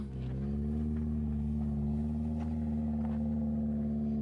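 A 2021 Subaru Crosstrek Sport climbing a steep, loose dirt trail, its engine held at raised revs in a steady, low, rumbling drone with a faint rise in pitch, close and continuous with no talk.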